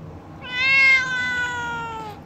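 A house cat gives one clear, drawn-out meow close by, rising and then slowly falling in pitch, with no talk over it.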